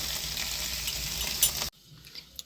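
A flour, egg and potato snack fries in hot oil with a dense, close sizzle that cuts off abruptly partway through, leaving only faint kitchen noise afterward.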